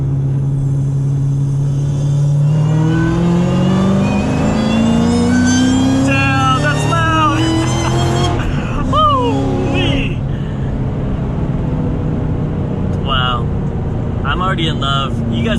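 A supercharged car pulls hard in third gear at full throttle, its engine roaring loudly with a rising whine that climbs in pitch inside the cabin. Voices call out over the noise.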